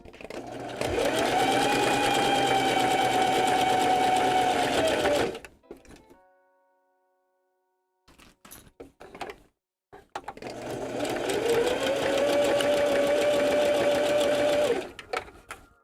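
A sewing machine stitches a velvet puppet seam in two long, steady runs of motor whir, broken by a short pause with faint clicks and handling noise before the second run starts.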